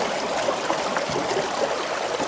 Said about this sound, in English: the way the water is rushing over here